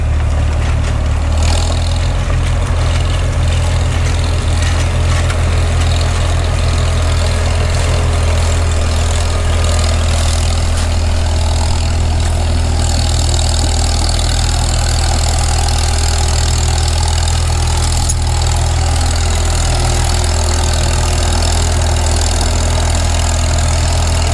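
An old Minneapolis-Moline tractor engine runs steadily at a low, throbbing idle, its heavy rumble continuous and fairly loud throughout with no talk over it.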